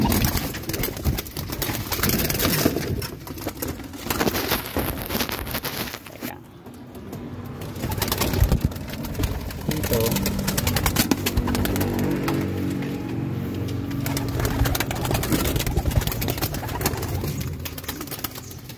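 Racing pigeons coo in a loft, soft repeated throaty calls amid shuffling, wing flutters and rustling that go on throughout, close and moderately loud, with no talking.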